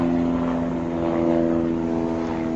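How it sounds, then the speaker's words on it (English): An aircraft drones steadily overhead outdoors, a sustained low engine hum heard at a moderate distance with no voices. "Excuse the helicopter."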